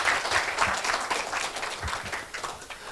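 An audience breaks into enthusiastic applause at a bravery awards ceremony, a dense, loud wash of clapping that holds steady for a few seconds before tapering slightly.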